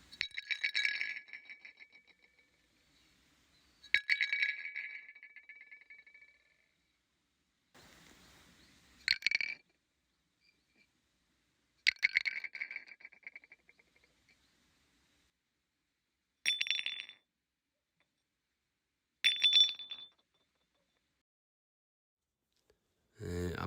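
An earthenware jar dropped about 30 cm onto rock several times, each drop a hard, bright clinking knock with a short ringing rattle, separated by silence and heard up close.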